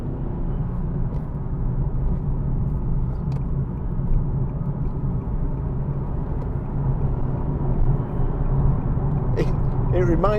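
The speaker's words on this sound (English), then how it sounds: "it sounds like, almost like a supercharged engine. There's kind of a howl." A 2014 Nissan 370Z GT with a 3.7-litre V6 drones from inside the cabin with a steady, low, throaty hum that holds evenly throughout.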